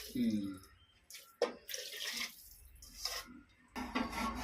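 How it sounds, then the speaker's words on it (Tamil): Water is poured into a pressure cooker holding rice and masala in a home kitchen, coming in short splashing bursts between pauses while a person talks quietly nearby. "தண்ணி ஊற்றிக்கலாம்"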